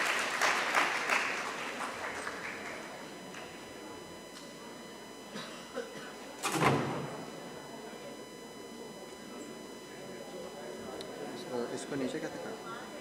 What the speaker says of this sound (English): So Dr. Saad Yassin, everyone, please give him a big round of applause.